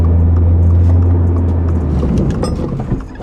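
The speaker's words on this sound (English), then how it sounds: "Maybe I should test the brakes now before I get close to a car." A 2022 Subaru BRZ fitted with a big brake kit slows hard during a brake test; a steady engine drone drops away as the car decelerates, followed by rougher road and tire noise near the end.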